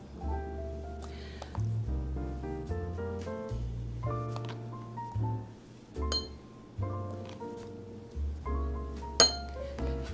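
Tea-party glasses clink repeatedly as a teaspoon of an ingredient is spooned into the bottom of each one, giving bright, irregular ringing taps over soft handling noise.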